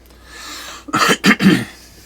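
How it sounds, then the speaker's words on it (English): A short throat clearing from someone with hay fever, followed by two or three quick, close coughs, loud and isolated against quiet background. "I suffer a little bit of hay fever, so you hear me clearing my throat and the occasional cough"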